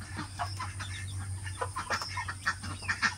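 Hungry domestic ducks on a rural Philippine farm, a rapid run of close, overlapping quacks and clucking calls over a steady low background hum.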